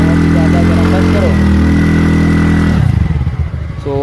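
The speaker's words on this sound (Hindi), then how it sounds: "तो आपको साइलेंसर की आवाज़ सुनाते हैं गाइस" A TVS Ntorq scooter with its air filter box missing, engine running loud and close with a steady droning exhaust note that shifts and drops toward the end, sounding rougher than normal.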